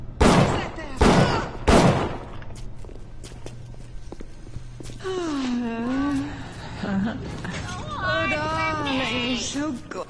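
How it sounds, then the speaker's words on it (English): BioShock gameplay begins with two loud, sharp gunshot bursts in the first two seconds, then quieter footsteps and clatter follow, and someone talks over the second half. "Gunfire coming from this direction too."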